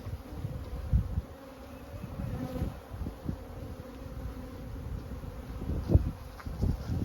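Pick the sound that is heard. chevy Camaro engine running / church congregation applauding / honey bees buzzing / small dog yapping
honey bees buzzing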